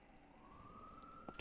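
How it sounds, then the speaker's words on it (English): A siren wails faintly in the distance, one long steady rising tone drifting slowly upward over low background noise, with a brief clatter near the end. "there's the sirens again"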